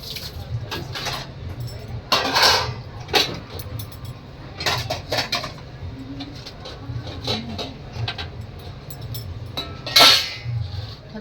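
Pots, utensils and cutlery being washed by hand in a home kitchen during a power cut, with intermittent clattering and clinking bursts close by over a steady low hum, plus occasional pigeon-like cooing in the background.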